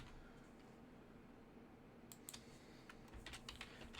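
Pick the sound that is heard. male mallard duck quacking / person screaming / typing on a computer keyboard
typing on a computer keyboard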